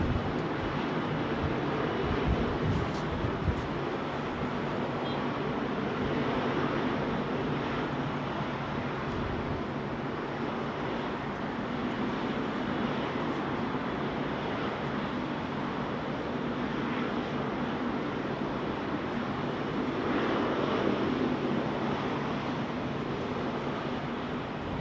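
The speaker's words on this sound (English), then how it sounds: "CMA CGM 777-200 freighter." A CMA CGM Boeing 777-200 freighter at London Heathrow Airport on a windy day, its engines a steady broadband roar that holds at a fairly even level for the whole stretch, with no talk.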